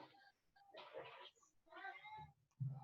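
A house cat meows a few times, faint and close, with people talking around it.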